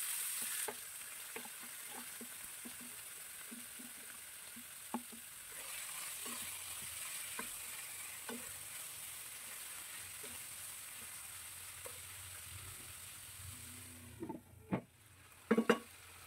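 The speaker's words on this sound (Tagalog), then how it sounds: "Yung pork muna ang ilalagay natin." Pork pieces frying in a pan with browned garlic for menudo, a steady hiss of sizzling oil with scattered soft stirring clicks and a few louder utensil knocks near the end.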